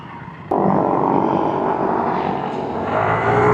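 A Vespa Primavera scooter fitted with a Polini CVT variator accelerates to overtake. The engine note jumps suddenly from a low idle to a loud, sustained drone that dips briefly and then climbs again, close and continuous.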